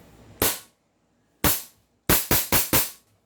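An M4A1 RIS airsoft rifle fires six sharp, loud cracks: two single shots spaced about a second apart, then a quick burst of four in rhythm, each ending in near silence.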